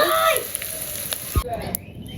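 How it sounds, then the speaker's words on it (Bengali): Onions dropped into hot oil in a wok hiss and sizzle steadily at close range, with a few clinks and a soft thump midway, in a Bangladeshi village kitchen. "সাথে পেঁয়াজও দিয়ে দিচ্ছি।"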